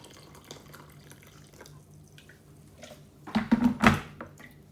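Water poured into a cooking pot holding lemon and chopped ginger, a short splashing pour building near the end after a quieter stretch of faint kitchen clatter.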